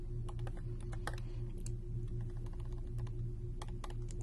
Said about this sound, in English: I'm just going to type inventory for now.